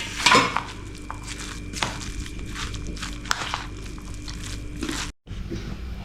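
Chana dal vada batter being stirred and mixed by hand with added rice flour in a bowl, giving soft irregular squelching and scraping close by with an occasional clink of a utensil, no talking.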